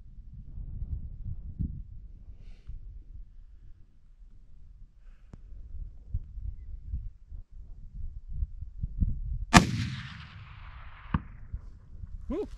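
A single .300 Win Mag rifle shot firing a Norma 180gr BondStrike round during an outdoor expansion test: one sharp, loud crack with a ringing tail, then a smaller knock, over low wind and background rumble.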